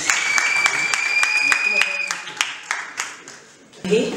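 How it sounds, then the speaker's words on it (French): A small group claps at a civil wedding ceremony, a few seconds of scattered, fairly close hand claps that thin out to single claps before a final brief burst. "Applaudissons s'il vous plaît"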